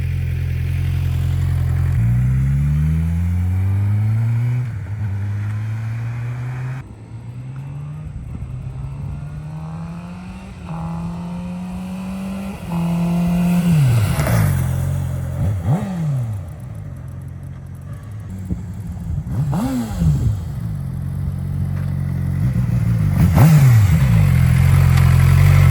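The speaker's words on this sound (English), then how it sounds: "I'm about to do a couple flybys right here on this little street, so that way you can see what it sounds like with the stock exhaust." A stock-exhaust 2019 Suzuki GSX-R600 sport bike makes several passes along a small street, its engine revving up and dropping in pitch as it approaches and pulls away, loud when near, with nobody talking.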